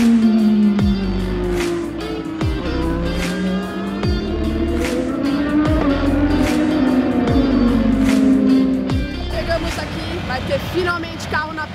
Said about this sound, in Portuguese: Finalmente carro na pista hoje.